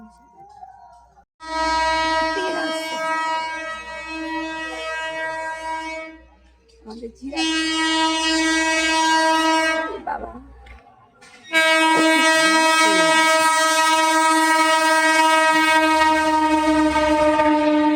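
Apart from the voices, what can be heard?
train arriving at a station, sounding its horn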